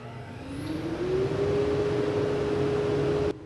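A welding fume extractor motor switches on and spins up, a whir rising in pitch over about a second, then holds a steady, loud hum before cutting off near the end.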